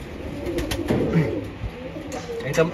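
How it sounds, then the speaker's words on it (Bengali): Soft, low cooing of a Pakistani high-flying pigeon, a few throaty warbling calls close by, with some voices and rustling in the background. "এই হলো মায়া কবুতরটা আমি দেখাচ্ছি"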